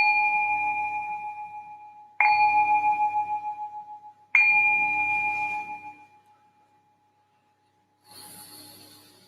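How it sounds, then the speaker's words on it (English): A meditation bell rung three times at roughly two-second intervals, each strike a clear sustained tone that rings out and slowly decays, the third fading to silence before a faint brief sound near the end. "I'll ring the bell to signal the start of the meditation"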